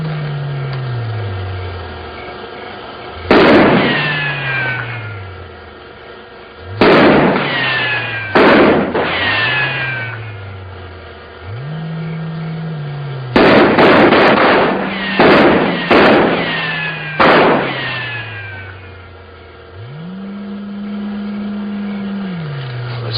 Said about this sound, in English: Go ahead, Corporal. Fire a few rounds.